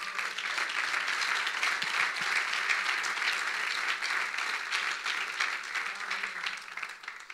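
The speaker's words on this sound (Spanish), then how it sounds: "denle un aplauso al Señor" Church congregation applauding during a Good Friday sermon, with sustained loud clapping from a crowd that fades slightly toward the end.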